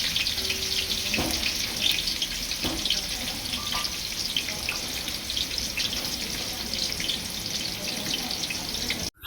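Thinly sliced onions hitting hot oil already holding whole spices such as cloves, a steady broad sizzle running throughout at close range, with faint clinks of a utensil and no talking.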